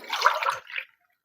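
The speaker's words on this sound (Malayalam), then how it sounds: "4 കപ്പ് വെള്ളമാണ് ഇതിനൊഴിക്കേണ്ടത്." Water splashes into a cooking pot holding beetroot, a brief close pour lasting under a second with nothing else heard.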